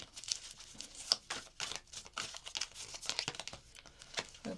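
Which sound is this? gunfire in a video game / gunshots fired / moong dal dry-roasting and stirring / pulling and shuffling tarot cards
pulling and shuffling tarot cards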